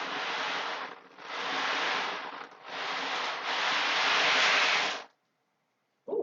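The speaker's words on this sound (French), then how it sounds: "Au son des bruits des vagues." Ocean waves surge and break on a shore in several long, loud washes of roaring surf, each swelling and fading, before a sudden drop to near silence at the end.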